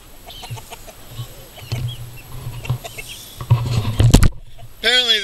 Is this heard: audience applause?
no